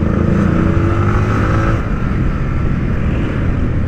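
Dense road traffic in heavy, hot conditions, steady loud engine drone of cars and motorcycles passing close by, a continuous rumble with some revving and no voices.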